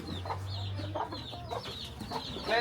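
Several chickens cluck in quick bursts nearby in a Philippine yard, brief sharp calls over a faint low hum.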